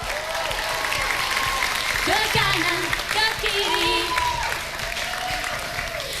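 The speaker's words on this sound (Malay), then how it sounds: "Tepukan untuk calon nombor 2" Crowd applause for contestant number two at a lively stage event, a sustained wash of clapping and cheering mixed with music, while a voice speaks over it midway.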